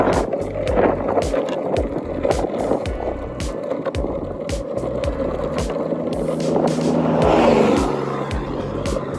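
Skateboard wheels roll along a smooth but slanted road shoulder in Wyoming's Wind River country, a loud, continuous close-up grinding roar broken by regular clacks from pavement joints.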